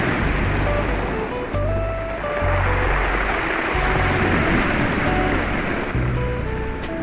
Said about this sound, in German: Ja, die Brandung ist wirklich gut.